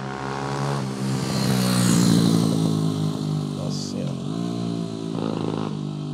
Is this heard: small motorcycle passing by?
yes